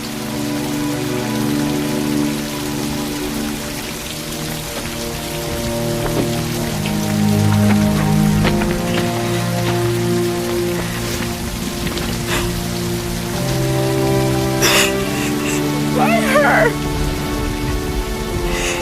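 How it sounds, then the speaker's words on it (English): Steady rain falls and patters in a continuous hiss alongside sustained musical tones, with a few sharper drips and sounds standing out near the end. "It's the rain. It's the drops."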